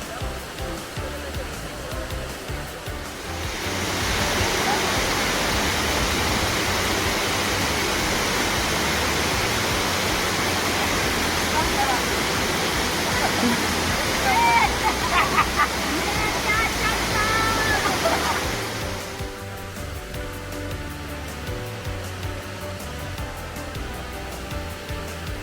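Pangas Falls in Bohol, Philippines, a loud broadband roar of falling water that swells in for about fifteen seconds and then recedes to a quieter outdoor background.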